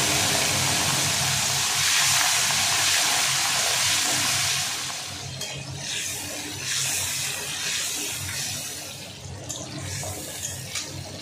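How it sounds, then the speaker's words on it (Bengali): Prawns frying in hot oil in a home kitchen, a steady loud sizzle and hiss that stays dense throughout, easing slightly in the second half with small crackling pops. "তেলটা গরম হয়ে গেছে, চিংড়ি মাছটা একটু ভেজে নেব"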